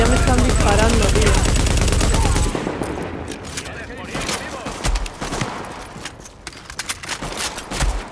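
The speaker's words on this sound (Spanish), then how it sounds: "Hola, ya me están disparando, tío." Dense automatic gunfire in The Division video game, a loud sustained burst for a couple of seconds, then sparser scattered shots and footsteps beneath people talking.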